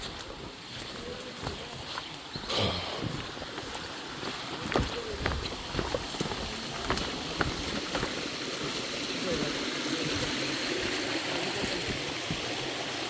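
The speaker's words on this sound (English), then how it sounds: "It's not a big waterfall." Small waterfall and stream beside a road, a steady broadband rushing of water throughout, with footsteps and faint talk over it.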